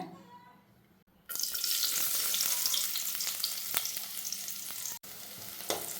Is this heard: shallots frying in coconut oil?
yes